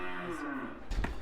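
Dairy cows lowing on a small farm, a sustained low moo followed by a second brief call, close and clear with no talk.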